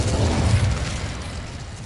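Incendio fire spell from Hogwarts Legacy erupting in a loud, sustained whooshing roar of flame with deep rumble, fading slightly toward the end.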